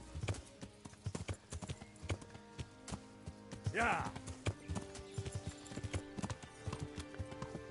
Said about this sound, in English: Vamos con el caballo más rápido